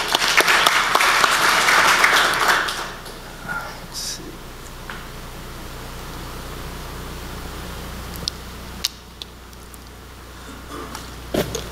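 A panel session audience claps to welcome a speaker. The applause is loud for about three seconds, then dies away into a quiet room with faint fan hum, a few knocks and shuffles.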